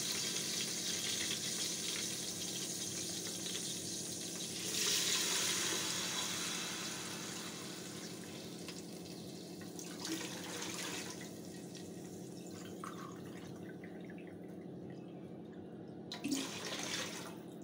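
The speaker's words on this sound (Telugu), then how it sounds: "ఎసురుకి నీళ్లు పోసాను" Water poured from a glass into a pot of plain rice for cooking khichdi, a steady trickling splash lasting several seconds, then quieter drips and faint kitchen clatter, with no talking.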